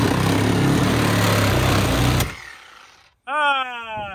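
DeWalt power saw fitted with a worn Diablo blade cutting through a Dodge 1500 car body, a loud continuous grinding roar that cuts off abruptly, followed by a brief pause and a short rising whine as the saw spins up again.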